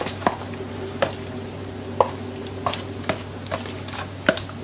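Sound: whisking wheat flour batter for pakoras

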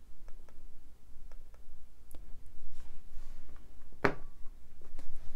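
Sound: quiet computer mouse clicking

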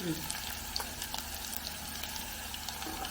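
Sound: shallots frying in a pan

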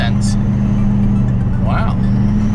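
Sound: Bentley Continental car driving past

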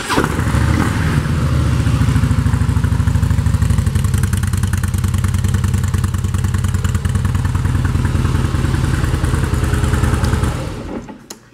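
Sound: Harley-Davidson FLS Softail Slim motorcycle engine idling

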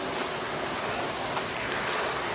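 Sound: waterfall in Bandarban

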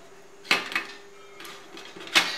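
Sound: taking the steamed dhokla pan out of the steamer

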